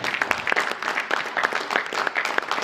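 Congregation clapping in a church service, a dense continuous patter of many hands at moderate volume with rhythmic accents, no speech over it.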